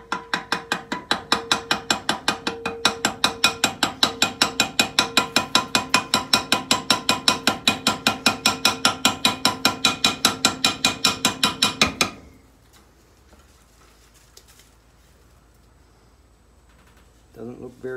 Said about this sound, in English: But first, I gotta make sure that this is actually gonna peen.